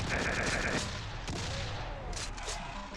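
Rapid gunfire from a chaingun-style weapon in a Doom video game mod, a dense stream of loud shots in the first second, followed by scattered game effects and lighter shots.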